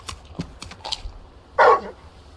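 Torgal, the big dog companion in Final Fantasy XVI, gives a few soft yips and sniffs, then one short, loud bark near the end, close by with no talk.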